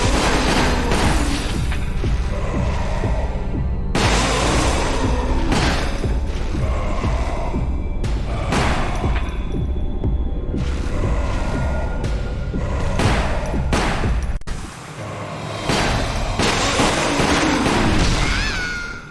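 Gunfire and booming blasts in the shooting gallery stage of Resident Evil: The Umbrella Chronicles on the Wii, with loud, dense shots and impacts repeating over a constant wash of game sound, no talking.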